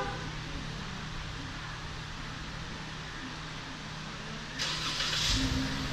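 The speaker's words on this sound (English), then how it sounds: "And the vehicle lights up and starts" A car engine starts by remote starter after a dash reassembly, with a steady hiss, then a quick crank and catch that settles into a low idle close by.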